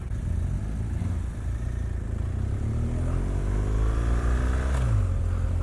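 A 2018 BMW R1200 GS base-model motorcycle being ridden, its engine droning loud and close and rising in pitch as it accelerates through the gears, with rushing wind noise over it.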